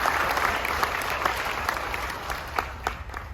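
Audience aboard the Carnival Magic cruise ship applauds Canadian passengers at a military appreciation gathering, a steady wash of clapping from a sizable crowd with a few sharper claps standing out.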